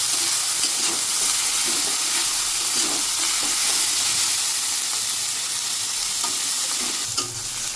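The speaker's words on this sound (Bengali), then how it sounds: "পেঁয়াজটা একটু বাদামি বাদামি হয়ে ভাজা হয়ে গেছে।" Onions fry in a pan, browned and salted with a little sugar already in, giving off a loud, steady sizzle with faint scrapes of stirring throughout and no talking.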